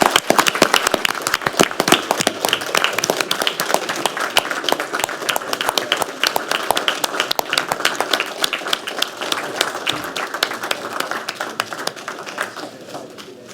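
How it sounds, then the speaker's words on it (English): A room claps for honored police officers at a city council meeting, many sharp individual hand claps forming continuous applause that holds strongly, then thins and tapers near the end. "Give them a round of applause."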